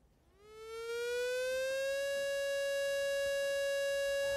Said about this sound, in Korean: 엥 하는 사이렌 소리. 오랜만에 듣는 이 민방위 훈련 소리인데요